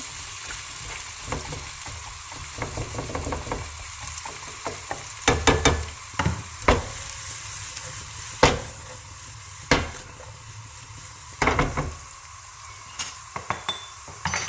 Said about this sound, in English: we're gonna lightly mix this together, just like really roughly mix